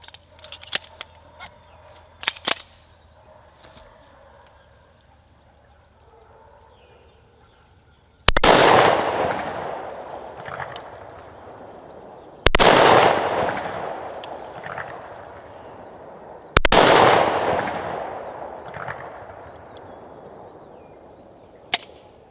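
Three loud 10mm pistol shots firing Underwood-loaded Hornady XTP rounds outdoors at a range, each a sharp crack with a long fading echo, spaced about four seconds apart after a quieter stretch of faint clicks and handling noises.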